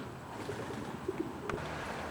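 Racing pigeons in a loft housing young birds and widowed hens give soft, low coos, a few scattered calls over a quiet background hum.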